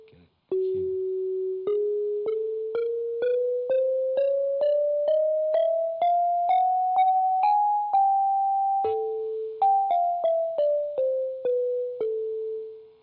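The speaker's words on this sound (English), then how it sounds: "So this is what the short facade tuning system sounds like." Single sustained electronic tones step upward in pitch one after another in the short facade tuning system, then drop back and descend in a second run, each note clear and alone with no voices.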